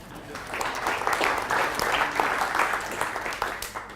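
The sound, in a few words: conference audience applauding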